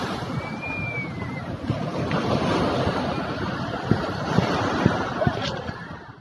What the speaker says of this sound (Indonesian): Karena berhubung ini ombaknya lagi gede banget